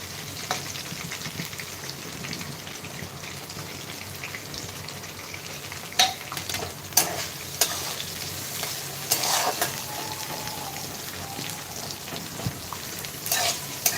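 Onion and peanuts being stir-fried for poha, a steady close sizzle broken by sharp scrapes and clicks of a spatula against the pan at irregular moments.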